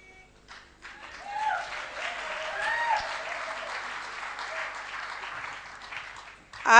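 Congregational applause at an Easter church service led by women at a convention, sustained clapping swelling and easing for several seconds with voices over it.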